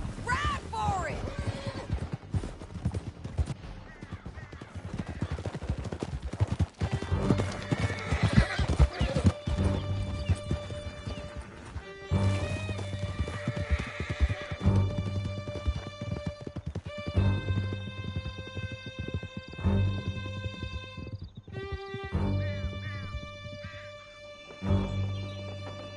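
Horse hooves clip-clop rapidly at a gallop in Red Dead Redemption 2, loud and close under swelling game music, with occasional neighs and voices speaking over the ride.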